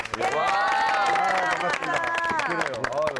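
A television variety show studio audience applauds as former footballer Lee Chun-soo comes out, a dense wave of clapping and cheering mixed with lively talk.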